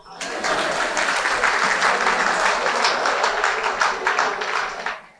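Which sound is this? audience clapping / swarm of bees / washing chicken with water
audience clapping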